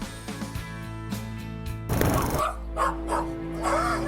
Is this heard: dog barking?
yes